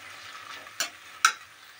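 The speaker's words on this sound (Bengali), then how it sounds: "এটাকে আমি গ্যাস লো করে আস্তে আস্তে ভাজতে থাকবো" Banana flower fries on low heat in a pan: a soft, steady sizzle, with two brief louder scraping stirs breaking through.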